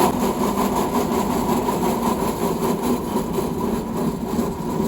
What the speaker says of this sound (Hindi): बेल्ट ड्राइव ये हमारा एग्जॉस्ट फ़ैन है